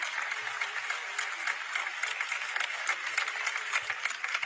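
Audience applause, a steady dense patter of many hands clapping that holds at an even level for the whole stretch, moderately distant with no voices over it.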